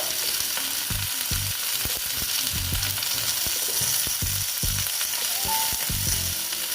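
Spinach and vegetables with pumpkin frying in a pan while being stirred, a strong steady sizzle under rhythmic spatula scrapes and thumps, close and loud, without speech.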